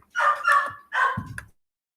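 Pet dogs barking and whimpering after being kept in a crate, two loud nearby barks followed by a brief whine, then silence.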